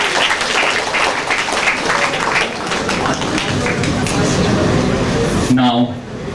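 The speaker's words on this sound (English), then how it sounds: "please give a huge round of applause for this." A crowd at a national integration camp inauguration in Delhi claps loudly and steadily after a Maharashtra performance, and near the end the applause fades as a voice begins speaking.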